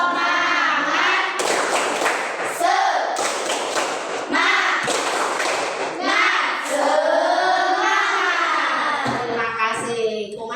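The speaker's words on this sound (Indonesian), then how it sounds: "kita tepuk semangat lagi" A group performs the rhythmic Indonesian 'tepuk semangat' spirit clap, bursts of sharp, loud claps in a patterned beat, with children's voices chanting along between the clap sequences.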